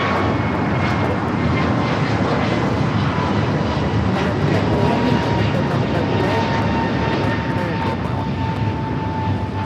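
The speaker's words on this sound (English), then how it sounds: "Air New Zealand 777 at 300ER, touching down here on the south side" An Air New Zealand Boeing 777-300ER lands on the south side of LAX, a broad, loud, steady roar of jet engines sustained throughout.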